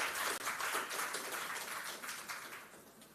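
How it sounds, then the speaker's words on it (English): An audience at an international conference in Kochi applauds, a steady, dense patter of many hands clapping, quiet and somewhat distant, without talk. "So we should give an applause to all of them."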